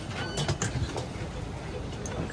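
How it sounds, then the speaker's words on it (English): A Deutsche Bahn ICE train at a Swiss station platform gives off a broad, steady rumble with faint clattering and brief squeaks. "So you can see this is ICE train."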